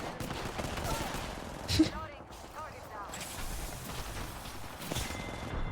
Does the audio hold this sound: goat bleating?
no